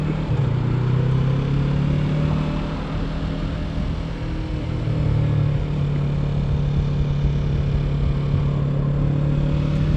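A 2024 Yamaha R3 motorcycle engine drones steadily throughout while being ridden, a continuous close rumble with a slight dip and swell in pitch partway through, heard alone with no voices.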